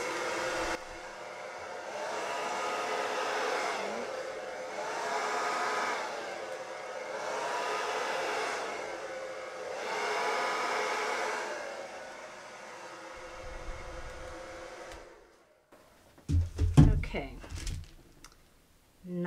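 A hair dryer whirs in several pulsing bursts, rising and falling, then cuts off, followed by handling clatter and bumps nearby.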